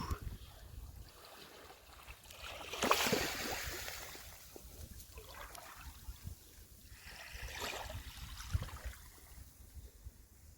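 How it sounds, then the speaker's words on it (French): Gentle water lapping at a shore beside a camper van in sunny weather, soft irregular splashes and trickles at a faint level, with a couple of brighter wash-ups. "Le bruit de l'eau."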